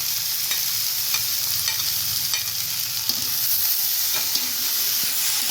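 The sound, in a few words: frying yardlong beans and potatoes with sesame seeds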